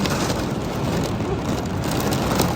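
Steady rain falls in a dense, even hiss, loud and unbroken throughout, with a low rumble underneath.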